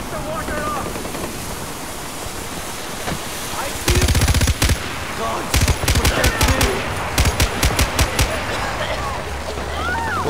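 Rapid automatic gunfire from the video game Far Cry 4 rattles out in several short bursts over a constant background roar, with a brief single shot before the volleys begin.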